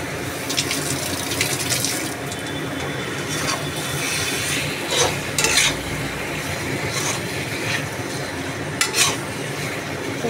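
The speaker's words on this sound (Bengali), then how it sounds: "মাংসের সাথে মশলাটা কষি।" Meat being stirred with spices as it fries in a pan, a wet sizzle under repeated scraping and clattering strokes of a spoon against the pan, close and fairly loud, with no voices.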